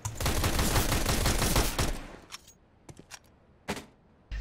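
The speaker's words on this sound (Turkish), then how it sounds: "Son mermili vurdu adam ya." Rapid automatic gunfire from Counter-Strike fills the first two seconds as a dense, loud burst, then a few sparse, sharper single shots and clicks follow amid quieter game ambience.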